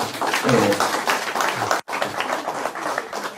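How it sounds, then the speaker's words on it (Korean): An audience applauds after a public lecture in Gimpo with a brisk, dense patter of clapping, heard close and fairly loud. The clapping briefly cuts out before continuing steadily to the end. "오늘 그저 열강을 해주신 강사님께 다시 한번 큰 박수 부탁드립니다."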